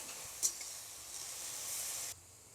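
Pumpkin flowers frying in a pan for a Bengali pumpkin flower bharta, a soft, quiet hiss with one sharp crackle early on, cutting off abruptly before the end.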